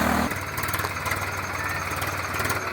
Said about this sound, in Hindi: जिन खेतों में कभी हमारे बैल हल चलाते थे, आज उनमें हमारे ट्रैक्टर चल रहे हैं